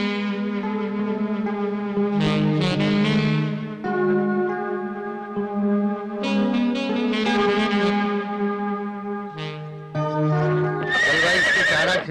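A horse neighs in repeated loud whinnies over a film score, a mare kept on a movie set for the heroine, with clip-clop hoof sounds mixed among the rising and falling calls.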